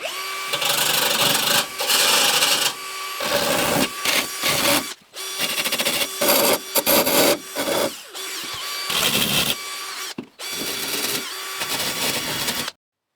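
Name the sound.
rotating steel wire brush removing rust from van metal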